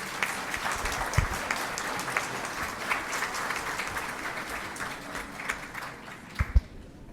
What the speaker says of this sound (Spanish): Arely Yamilet Navarrete Naranjo, un aplauso por favor.